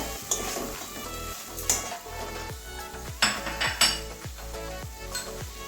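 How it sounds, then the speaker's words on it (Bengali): Fried pointed gourd stirred in a pan of bubbling oil, with repeated clinks and scrapes of a spatula over a soft sizzle and faint background music. "এবারে ভেজে রাখা পটল কটা দিয়ে দেবো ভালো করে কষিয়ে নেবো"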